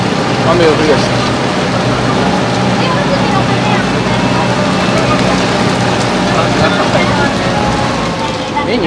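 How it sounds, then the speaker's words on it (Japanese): Rain beginning to fall on a sightseeing cruise boat on Lake Shinji in Matsue, Shimane, at sunset, a dense steady patter mixed with the boat's engine hum, while people talk nearby. "よかった、雨が降り出した。"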